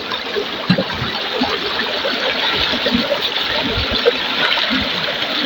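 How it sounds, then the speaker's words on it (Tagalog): Running water splashes and trickles steadily as a walking cane is rinsed under it, close and fairly loud, with small splatters throughout. "Binabanlawan ng baston."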